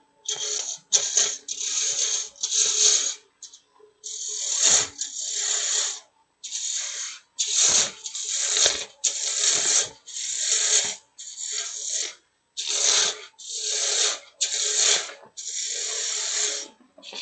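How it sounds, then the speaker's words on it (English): A small roughing gouge cuts wood on a lathe while a box is turned, making repeated hissing, scraping passes in an irregular rhythm, each burst about a second long with short pauses between. No one speaks. "I'm going to grab me my smaller roughing gouge"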